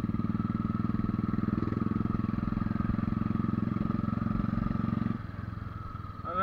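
A motorcycle rides a mountain road from Leh toward Khardung La pass, its engine thumping steadily and closely for about five seconds before the note drops and shifts at the end; no talking.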